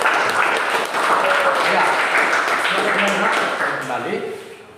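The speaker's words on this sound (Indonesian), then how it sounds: "Beri tepuk tangan untuk kelompok" Students in a classroom clap for a group that has just presented, a continuous burst of applause lasting a few seconds while a teacher's voice speaks over it, fading toward the end.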